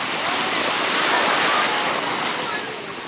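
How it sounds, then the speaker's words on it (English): Ocean surf breaking on Myrtle Beach, a steady broadband wash of crashing waves that swells slightly midway and eases toward the end, with wind noise on the microphone and no clear talk. "when the waves hit me"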